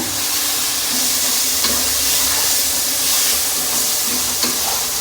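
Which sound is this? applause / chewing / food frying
food frying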